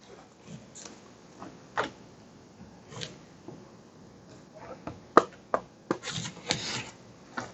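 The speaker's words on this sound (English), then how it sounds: "I'm going to shuffle." Playing cards for a Devil May Cry board game being shuffled, soft scattered rubs and riffles at first, then quicker crisp snaps, close and quiet with no talk.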